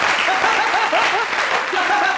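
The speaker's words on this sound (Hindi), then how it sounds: "तालियां।" Studio audience applause on a Pakistani comedy talk show, dense and steady throughout, with a voice speaking over the clapping.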